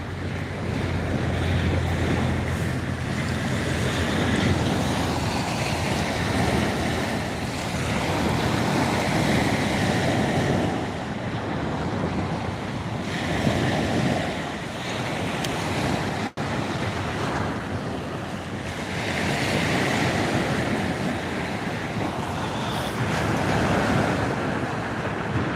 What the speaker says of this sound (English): the sound of the ocean is something else